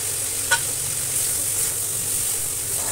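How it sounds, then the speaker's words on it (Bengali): Pointed gourd and potatoes frying in a pan make a steady, moderately loud sizzle throughout, with one brief clink of a spatula near the start. "আর এদিকে পটল আলু ভাজা চাপিয়ে দিচ্ছি।"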